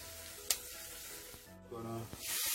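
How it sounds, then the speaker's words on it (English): A stick of butter melting in a pot, soft close sizzling with a few light clinks and stirring sounds, quiet and uneven, with no talking. "I'm melting the butter for the garlic butter."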